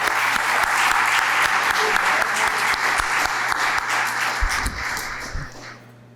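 Audience at a College of Medicine faculty recognition ceremony in Chicago gives a sustained round of steady applause that fills the room, then thins and fades out near the end.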